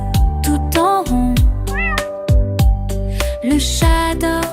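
A cat's meows in a French children's song about pets, repeated sung-style meowing calls with rising and falling pitch over a steady musical accompaniment, loud and close.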